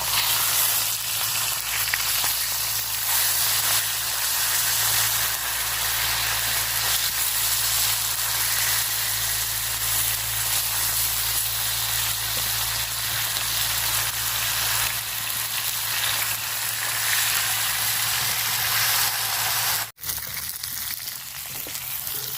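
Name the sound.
river bata fish frying in oil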